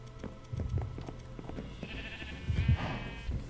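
Minecraft sheep bleat in a farm area, one wavering bleat rising clearly midway and another shorter one just after, over soft game background sounds and small clicks.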